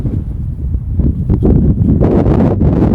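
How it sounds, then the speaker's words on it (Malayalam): Strong wind buffets the microphone at the crater of a volcanic eruption site, a steady low roar that swells into louder gusts with no voices. "ഓ മൈ ഗോഡ്, ഒടുക്കത്തെ കാറ്റ്."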